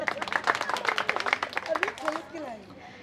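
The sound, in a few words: audience clapping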